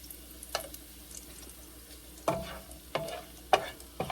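Bacon frying in oil in a pan with a soft, steady sizzle, as a draining spoon lifts the pieces out, giving a few sharp metallic clinks and scrapes against the pan.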